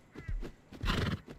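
A horse in the survival game Rust whinnies twice in quick succession, close and fairly loud, with faint hoof clip-clop between the calls.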